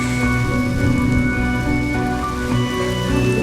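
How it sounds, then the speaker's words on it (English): Steady rainfall in the Honkai: Star Rail video game, a dense continuous patter of drops on surfaces, loud and even throughout, with sustained tones held underneath and no speech. "Without this rain, the catechins would never take action"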